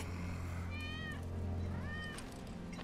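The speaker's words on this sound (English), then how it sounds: "That's Wedge's cat." A cat in the Final Fantasy 7 Remake game gives two clear meows about a second apart, fairly close, over a low steady background hum.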